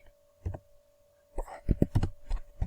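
Light keyboard clicks tap out, a couple of isolated presses first, then a quicker run of keystrokes close by after a short silence.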